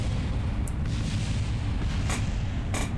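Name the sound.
rocket explosions in the video game Kerbal Space Program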